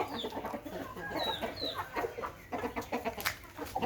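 Several chickens cluck and chatter close by, with short overlapping calls and a few higher squawks over a busy, noisy background.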